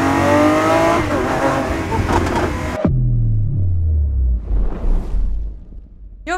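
Lamborghini Aventador SVJ Roadster V12 engine at full acceleration near the Monaco F1 circuit: a loud, rising howl that cuts off abruptly, then a deep burbling, crackling overrun as revs fall, with a short second surge near the end.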